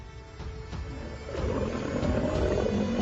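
A pride of lions roars while attacking a crocodile, producing loud, deep, sustained growling roars that swell and continue throughout.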